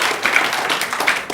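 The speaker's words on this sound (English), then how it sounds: "Let's give him a round of applause" A conference audience at a Python programming talk applauds the speaker, steady dense clapping from a crowd with no voices, cut off after a moment.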